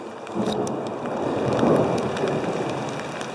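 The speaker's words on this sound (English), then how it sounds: "It's not raining as heavy, but it's still coming down." Steady rain patters and hisses continuously on a mountain valley trail, a soft even wash of drops falling nearby with no voices.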